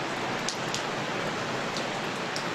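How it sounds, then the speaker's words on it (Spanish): Steady rain falling on a surface, an even dense hiss with a few slightly louder drops, close and continuous throughout with no voices. "Ahora de la lluvia."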